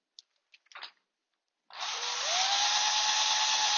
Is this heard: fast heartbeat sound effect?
no